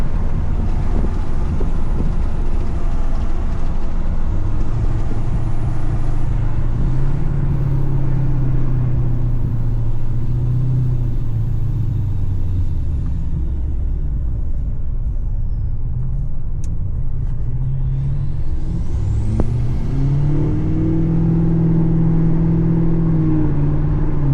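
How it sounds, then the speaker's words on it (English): Tuned and deleted L5P Duramax diesel truck with its exhaust brake engaged, a loud continuous low rumble that rises and falls in pitch as the truck slows, heard close from inside. "Exhaust brake."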